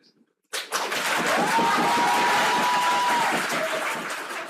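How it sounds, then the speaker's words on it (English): A crowd bursts into loud cheering and clapping after near silence as a death sentence verdict is read out in Bangladesh, a sudden dense roar of applause that holds steady for several seconds with a whistle rising above it. "This was the moment crowds cheered and clapped as the verdict was read aloud"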